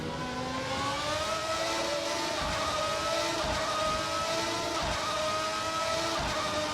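A Formula 1 car engine in a racing video game, a loud continuous high-pitched wail heard alone that dips briefly at several gear changes as the car drives the circuit.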